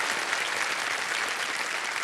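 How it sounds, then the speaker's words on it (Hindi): Studio audience applauding on the set of the Kaun Banega Crorepati television quiz show: dense, steady clapping from many hands, sustained at an even level throughout. "तालियां बजाना चाहेंगे आपके लिए"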